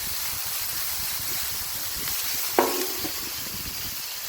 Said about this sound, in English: let's put a little bit of water on there to generate some steam